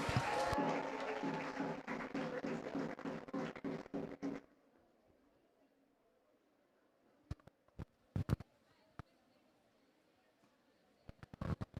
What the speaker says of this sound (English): Can we welcome them with a huge round of applause?